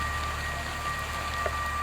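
Steady, soft rain falls continuously on a riverside campsite on the Wekiva with a constant hiss, no voices, just a gentle wash of drops throughout.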